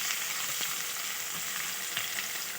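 A medium chopped onion fries in hot oil for a yellow moong dal, giving a steady, close sizzle with small crackles throughout and no talking.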